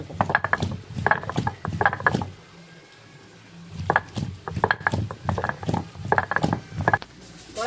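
Dried red chillies ground on a traditional stone ammi grinder, rhythmic scraping and rolling strokes of stone on stone in repeated bursts, with a brief pause midway before the grinding resumes.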